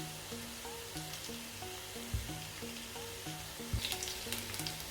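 Browned onion with freshly added ginger and garlic sizzles steadily in a pan for a fish salan, with a couple of soft stirring knocks and background music underneath.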